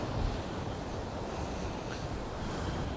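Big ocean waves break on a rocky shore at Costa de la Calma, a loud continuous roar of surf with wind buffeting the microphone and no voices.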